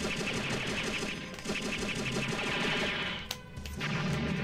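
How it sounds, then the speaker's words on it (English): Rapid rattling volleys of missile fire in the video game Robotech Battlecry, dense and continuous over a droning engine hum, with a sharp burst near the end. "they fired missiles when I fired missiles"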